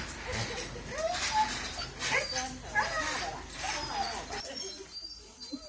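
An excited dog whines, whimpers and gives short happy howls in a continuous string of rising vocal cries at close range, while people talk over it.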